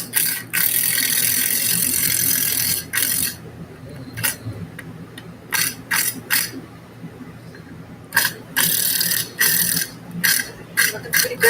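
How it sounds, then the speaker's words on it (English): Screws driven tight to draw plaster up against ceiling strapping, giving bursts of ratcheting, clicking mechanical noise in short stop-start runs, fairly close and alone with no voices. "Now when I tighten up these screws,"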